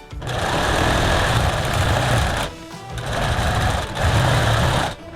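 Sewing machine stitching a long seam on a canvas wall tent, loud and close, running in two steady bursts with a short pause between them.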